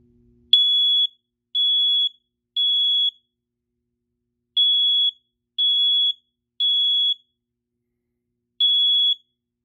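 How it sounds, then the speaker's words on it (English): A smoke detector sounds after its test button is pressed, giving loud, piercing beeps in groups of three with pauses between, heard alone and close. "I will now go ahead and test the smoke detector by just clicking the buttons."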